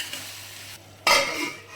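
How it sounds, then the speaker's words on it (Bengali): Potatoes frying in a pan, a quiet sizzle broken by a sudden loud stir or toss that brings a burst of crackling, then settling back toward a softer fry. "আলুগুলো ভাজতে দিয়ে দিয়েছি"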